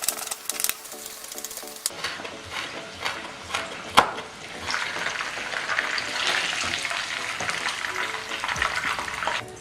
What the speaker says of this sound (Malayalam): ഒരു മീഡിയം ഫ്ലെയിമിലിട്ട് ഇതിനെ ഫ്രൈ ചെയ്തെടുക്കണം